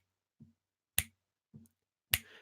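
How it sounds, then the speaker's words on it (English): Two crisp finger snaps, each preceded by a soft low kick-like thump, form a sparse alternating beat, close and clear against silence. "I'm snapping my fingers"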